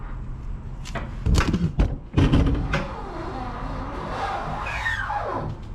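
A 1969 Impala that sat for over 20 years being lowered off a jack, a cluster of heavy metallic clunks and thumps as it settles, followed by a quieter rattling hum.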